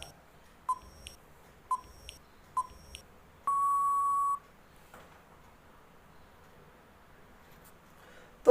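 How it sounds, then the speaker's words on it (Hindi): A countdown timer used during a quiz gives three short, evenly spaced beeps followed by one long sustained beep, then near silence with a brief click at the very end. "इसलिए टाइमर लगाया"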